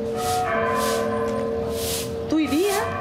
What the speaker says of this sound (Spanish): Me gusta el sonido de esa campana.